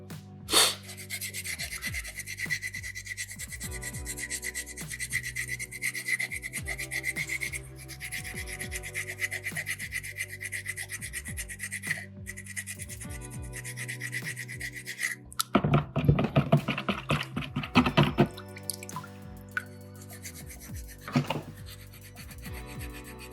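A soapstone carving is scrubbed by hand in short, gritty rasping strokes, fairly quiet and close, with a denser flurry of scraping about two-thirds through.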